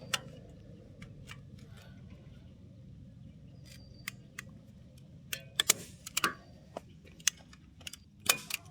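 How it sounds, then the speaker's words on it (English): Staple gun driving staples through carpet into a boat trailer bunk board on a ShoreLand'r 2000 trailer, heard as scattered sharp clicks spaced irregularly, clustering toward the end, close and fairly quiet over a low hum. "I'm just going down the bunk and stapling underneath every foot or so to make sure that I got the alignment right on the carpet"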